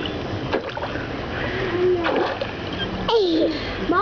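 A young child splashing while swimming, with repeated close splashes and churning water while a voice calls out over them.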